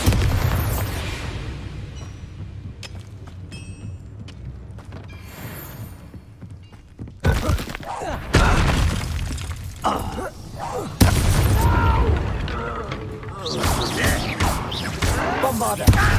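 Bombarda spell explosions in Hogwarts Legacy, two loud sudden blasts with crashing debris cutting into a busy combat scene, a voice shouting spell names in between.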